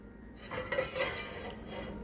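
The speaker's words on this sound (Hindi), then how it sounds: "मैंने एक देगची लेके उसमें ऑयल डाल लिया है और उसमें ये मैं प्याज डाल रहा हूँ" Onions tipped into oil in a metal cooking pot for chicken nihari, with clinks and scraping of utensil against the pot and a faint sizzle beneath.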